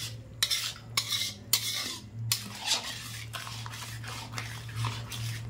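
Onion gravy being stirred and sautéed in a pan with a metal spoon, repeated scraping and clinking strokes against the pan, close and clear, with no talking.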